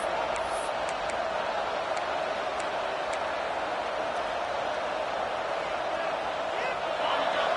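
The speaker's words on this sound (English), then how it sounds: "listen to this crowd noise. This stadium is vibrating." A vast stadium crowd at a Florida vs Arizona State football game roars continuously, a dense, loud wall of noise that never lets up.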